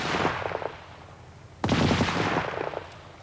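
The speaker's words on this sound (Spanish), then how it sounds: "la ametralladora Vickers Medium" Bursts of Vickers Medium machine gun fire, a short rapid string followed by a louder, longer rattling burst with echoing tail, heard outdoors at moderate distance.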